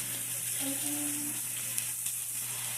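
Slider patties sizzle on a griddle with a steady, bright frying hiss, and a faint brief tone is heard under it.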